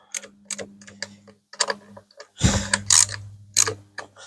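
Carburetor bolts on a Husqvarna trimmer are snugged down with a hand ratchet, a run of short rapid clicking bursts followed by a louder, longer grinding ratchet pass near the end, close and alone.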